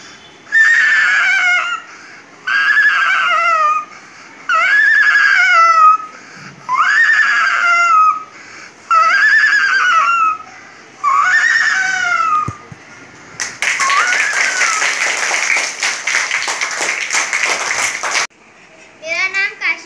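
A person imitates a horse, giving six short whinnying neighs in a steady rhythm, followed by a longer, raspier drawn-out whinny, close and loud.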